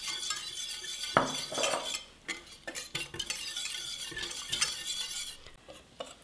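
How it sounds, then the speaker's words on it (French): Milk and a spoonful of chickpea flour stirred in a pot on a gas stove, giving faint, continuous scraping and swishing with occasional spoon clinks against the pot. "Je mélange le lait avec une cuillerée de farine de pois chiches."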